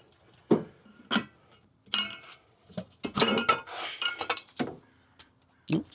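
Metallic clinks and scraping clatter come from work on a nylon locking wing nut on a 1964 Rambler, scattered taps and rattles in close quarters separated by quiet gaps.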